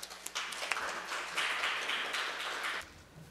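Audience applause at a Korean science and technology policy forum, a steady mid-level wash of clapping that swells slightly midway and fades out near the end, with no talking over it.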